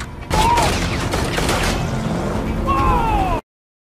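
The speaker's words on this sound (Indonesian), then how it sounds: "Tom pun sangat girang saat menembakkan pistol FF milik Sonny ke salah satu mobil Mamang Begal" A pistol fires at a car in a rapid, dense burst of loud shots lasting about three seconds, mixed with whining vehicle noise and brief voices, then it cuts off abruptly.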